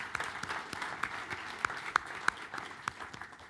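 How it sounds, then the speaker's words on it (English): An office conference audience applauds, a light steady patter of many hands with a few sharper individual claps standing out, moderately distant and without talk. "let's give us all a round of applause for what we did as the back office"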